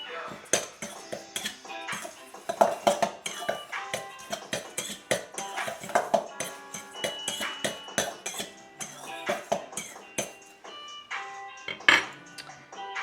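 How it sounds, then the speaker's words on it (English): A utensil clinks and scrapes against a bowl as sugar is mixed for a cheesecake, with irregular taps throughout and speech now and then. "Give that a quick old mix."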